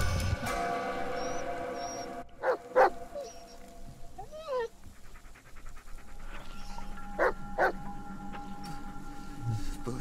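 Dog barks, yips, whimpers and pants in the Blair Witch horror video game, a few short sharp calls and whines scattered over a low ambient game background.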